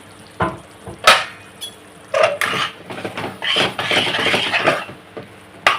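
A lid clanks off a pot of tiger prawn masala gravy, followed by close metallic clatter and a burst of stirring and sizzling in the pot.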